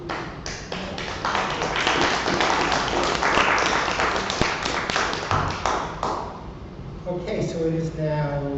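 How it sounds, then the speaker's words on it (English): A board meeting crowd applauds outgoing students with dense, steady clapping for about seven seconds, close and loud. Voices can be heard near the end as the applause fades. "Round of applause for outgoing students."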